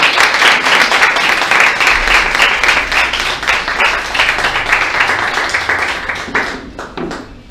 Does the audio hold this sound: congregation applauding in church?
yes